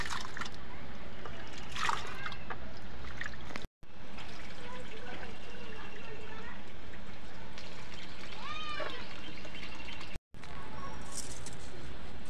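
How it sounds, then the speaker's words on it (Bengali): Rice is rinsed in water in a home kitchen, with continuous trickling and sloshing splashes close by and a brief cat meow partway through. "মা দেখো এখন চলে এসছে চালটা ধুয়ে নিতে"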